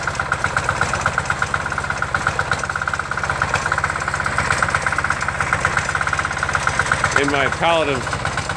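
A diesel David Bradley snow thrower engine idles steadily with a fast, even chugging pulse throughout, while someone talks over it nearby.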